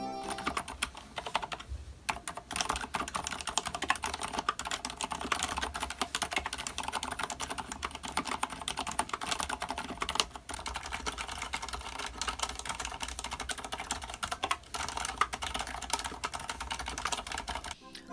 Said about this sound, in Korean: 타건은 바로 들려드리도록 할게요